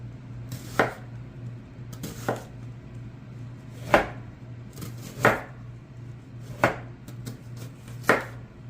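A knife slices through an onion on a cutting board in six distinct, evenly spaced chops, each a sharp close thud against a low steady hum, with no talking.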